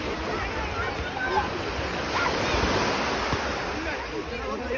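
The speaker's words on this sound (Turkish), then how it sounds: "Atilla Barcelona'da denize giriyor." Sea waves wash steadily onto the beach at Badalona near Barcelona, a continuous broadband surf with wind buffeting the microphone, lasting throughout at moderate level.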